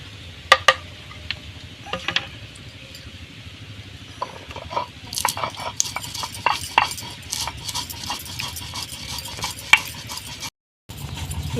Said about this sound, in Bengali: এদিকে গোটা গরম মশলা আর জিরে ভাজাটা গুঁড়িয়ে নেবে।